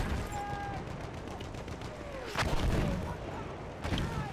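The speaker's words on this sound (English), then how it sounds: "That's a mortar from the enemy." Enemy mortar fire in the Battlefield 1 video game on the downed Zeppelin map, a booming blast near the middle and a second near the end over a steady rumble of battle noise.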